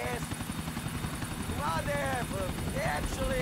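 A helicopter in Grand Theft Auto IV whirs steadily and loudly throughout, with a voice speaking over the rotor drone.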